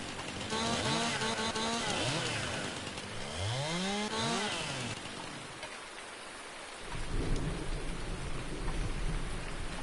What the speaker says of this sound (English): You hear all the thunder in the background.